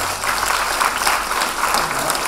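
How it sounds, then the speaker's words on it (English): Audience at a school awareness programme for classes 9 to 12 applauding the parents present, a steady dense clapping from a crowd that holds at an even, fairly loud level throughout. "Can we have a round of applause to all the parents who are around?"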